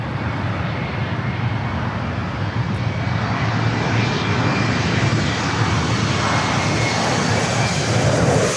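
A jet airliner takes off from runway 24 left at LAX, a loud, broad engine roar that builds slowly and steadily over several seconds, heard alone.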